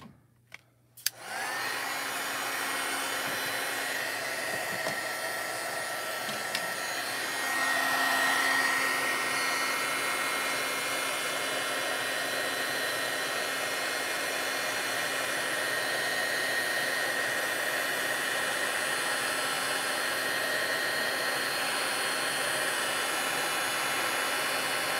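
A heat gun for heat embossing clicks on and blows with a steady, loud whooshing hiss held close for the whole stretch, with no talking.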